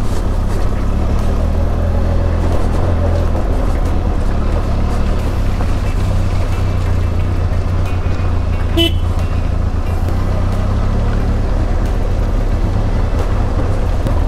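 A 2022 Benelli TRK 502 motorcycle ridden over snow in Nainital, Uttarakhand, its engine a steady loud drone with constant wind rush across the whole stretch and one brief high tone near the middle.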